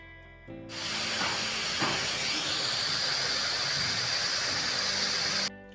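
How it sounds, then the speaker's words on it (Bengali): A pressure cooker whistle releases a loud, sustained jet of hissing steam that starts abruptly, holds steady for about five seconds, then cuts off, with quieter kitchen background before and after. "প্রেশারের মুখ বন্ধ করে আমি আরও একটা সিটি মেরে নেব"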